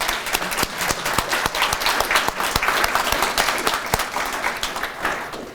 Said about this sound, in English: So if you will, give them a round of applause.